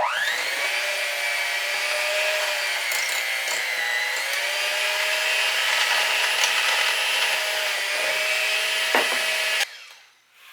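A steady electric mixer beats eggs into an apple cake batter, the motor's whirring hum holding nearly constant for about nine seconds before cutting off abruptly near the end.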